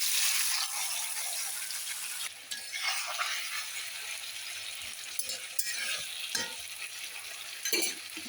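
Tangra fish frying in mustard oil with black cumin in a kadai, a loud close sizzle that softens midway, punctuated by utensil clinks and stirring scrapes.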